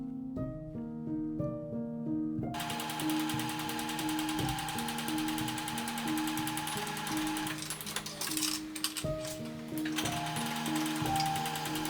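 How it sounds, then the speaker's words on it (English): A sewing machine stitches the shoulder seams of a hanbok, a rapid mechanical whirring run with a brief pause, heard beneath gentle background music with no talk. "Sew the shoulders of the front and back bodies with right sides together."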